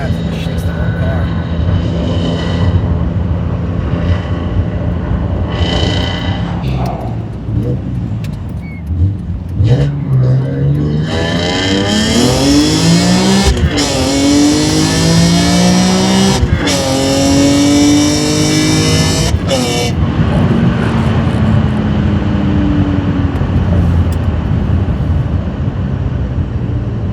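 A BMW E46 M3 wagon with its S54 engine and Euro headers revs hard and accelerates through several hard SMG gear changes. The engine note climbs loudly up through each gear, close by and dominant, with talk inside the car around the pulls.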